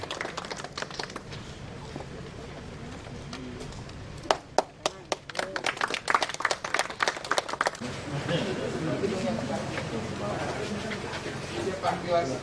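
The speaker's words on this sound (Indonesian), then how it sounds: "mari sekali lagi kita berikan tepuk tangan yang paling meriah untuk kebersamaan kita di pagi hari yang indah ini" An audience applauding at a morning outdoor ceremony where a governor inaugurates a bamboo agroforestry village campus. A spoken announcement gives way to a burst of scattered claps, which swell into broad, steady clapping from the crowd.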